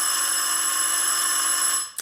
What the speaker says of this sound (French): Rassure-toi, chéri, c'est le téléphone.